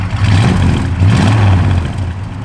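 A 1967 Plymouth GTX convertible's V8 revs up twice in close succession, loud and rumbling near the microphone, with a steady low engine drone throughout.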